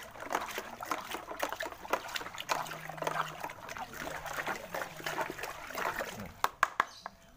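Water trickles and splashes steadily into a tub as it fills toward about three-quarters full, the flow continuous throughout with a few sharper splashes near the end and no talking.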